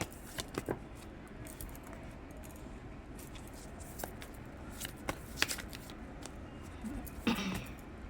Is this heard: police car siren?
no